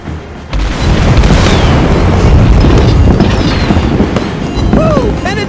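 Heavy naval shell impacts in World of Warships Blitz, a sudden loud boom followed by rolling explosive rumble and debris crashes from cruiser gunfire, sustained and close.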